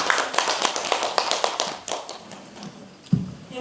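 Applause from a seminar audience honoring two Buddhist monk presenters, heard as scattered, moderately close hand claps that thin out and fade toward the end, with a final louder clap.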